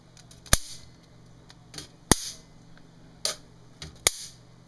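A 2400-volt electric bug zapper racket powered by two D cells snaps sharply as it zaps fruit flies, about five crisp, loud cracks spaced irregularly against a quiet background, no talking.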